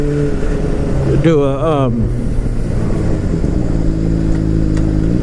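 A Honda CBR motorcycle's exhaust drones steadily and close, holding a low engine tone throughout while someone talks over it.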